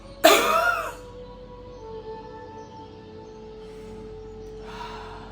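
One harsh cough bursts out at the start, then fades into quiet with a faint steady hum and a soft breath near the end.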